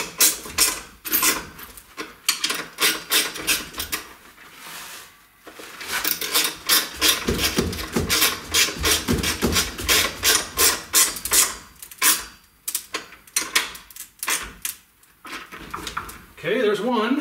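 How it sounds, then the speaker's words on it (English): Bolts being tightened on the legs of an Elvira's House of Horrors Blood Red Kiss Edition pinball machine, with repeated ratcheting and rasping bursts under someone talking. "and then tighten up the bolts"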